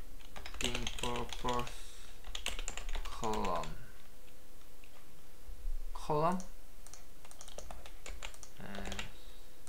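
Rapid clicking of computer keyboard keys while text is entered into columns for a web page layout, fairly close and steady in bursts, with someone talking briefly over the typing.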